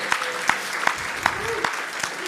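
Sparse audience clapping at a ClueCon 2025 telecom conference talk, a handful of distinct hand claps spaced roughly every half second over a faint background murmur, with brief voice fragments.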